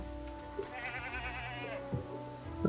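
A goat bleats once in the Lego Worlds video game, a wavering mid-pitched cry that runs for about a second over steady game music, with a few short thumps afterward.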